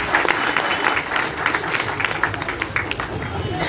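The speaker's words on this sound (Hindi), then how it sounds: "आप लोग सब ताली बजा के उसका समर्थन" An audience of employees claps together at a protest meeting against the education department, brisk steady applause with some voices mixed in, lively and close throughout.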